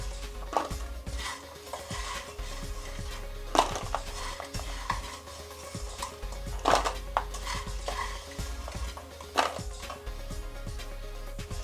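A spoon scrapes and taps against a pan as chena murki sweets are scooped out into a bowl, with repeated metallic knocks at irregular intervals over a low steady hum, close and without talk.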